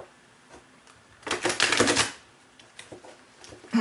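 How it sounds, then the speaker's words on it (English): Tarot cards riffled and shuffled by hand close up, a dense burst of crisp flapping clicks in the middle with lighter taps before and after. "One more shuffle here, guys."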